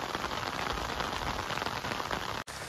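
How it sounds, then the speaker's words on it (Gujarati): Rain pours down on a farm near a groundnut field, a dense, even hiss of drops striking surfaces that stays constant and fairly close throughout, with a brief dip near the end. "જો કેવો વરસાદ આવે છે"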